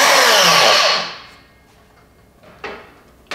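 A Mafell K 85-18 cordless carpenter's circular saw whirs loudly at close range for about a second, then spins down to near silence, followed by two short sharp noises.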